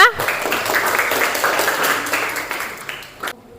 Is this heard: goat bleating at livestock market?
no